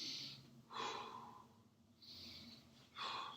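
Controlled breathing during a beginner full-body workout, heard as a few close, audible breaths and exhales with pauses between them, soft and alone with no talk.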